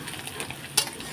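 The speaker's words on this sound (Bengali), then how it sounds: "আর এদিকে মাছটাও ভাজা হচ্ছে, হয়ে গেছে।" Fish fries in a pan on a home stove: a soft, steady sizzle close by, with one sharp stirring scrape partway through, heard briefly and alone.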